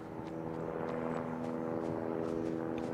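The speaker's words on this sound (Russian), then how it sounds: "Вертолет летает." A helicopter flies in Call of Duty: Mobile, a steady droning engine and rotor hum with a harmonic whine that holds at a constant level through the whole stretch, with no talk over it.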